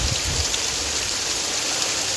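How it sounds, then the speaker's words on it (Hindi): Heavy rain pours down in a village, a loud, dense, continuous hiss of water striking surfaces, with no voices over it. "देख सकते हो संगवारी हो पानी कतका पानी गिरत है।"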